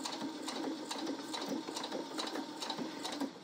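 A sewing machine runs steadily, stitching a scant seam close to the folded edge of fabric, its rapid needle rhythm continuous and fairly quiet throughout, with no talking.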